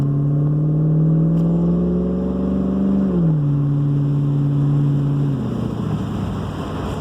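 A 2000 Pontiac Trans Am Bandit's engine drones steadily while driving on a road, the pitch rising then dropping as it shifts, loud and close with no talking.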